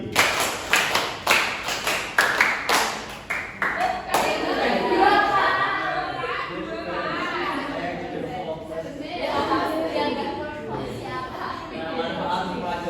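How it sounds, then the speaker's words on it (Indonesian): Pupils in a primary school social studies class clap in counted rhythmic sets, sharp loud claps in quickening groups over the first few seconds, followed by a teacher talking and children chattering. "tepuk dua, tepuk tiga, tepuk empat, tepuk lima, tepuk lima dua kali"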